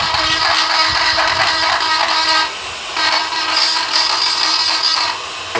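Drill bit grinding into dead wild olive wood, a loud continuous rasping whine that drops briefly twice before resuming, close up with no talk.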